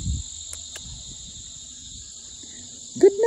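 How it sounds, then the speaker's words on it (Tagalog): Crickets chirp steadily at night in the yard of a rural farmhouse, a constant high trilling with faint background sounds and a brief voice near the end. "Narinig ninyo ang mga kuliglig?"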